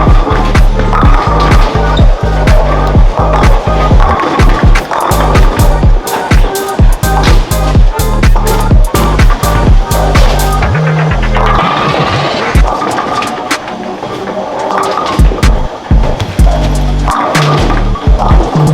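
Urethane bowling ball rolling down a lane and crashing into the pins at a professional PBA championship, with loud repeated rolling rumble and sharp clattering pin impacts over a busy, noisy bowling-alley background.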